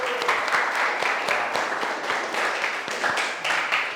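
A classroom of students applauding, brisk steady clapping from a modest group at moderate loudness, with several sharper claps standing out from the wash.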